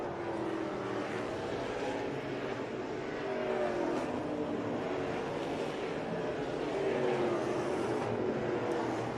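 Stock cars in a NASCAR Pinty's Series race at Edmonton International Raceway lapping the track, with a steady, fairly distant engine roar and shifting pitch as cars pass and overtake, continuous throughout.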